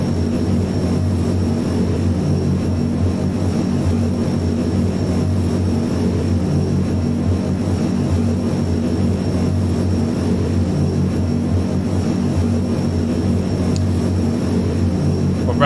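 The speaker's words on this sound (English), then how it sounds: "Brown's saying it sounds like an Antonov 12. Let's listen from the outside again." Propeller engines of an RAF Airbus A400M in Microsoft Flight Simulator 2020 drone loud and constant, a steady turboprop hum with a faint whine and no break throughout.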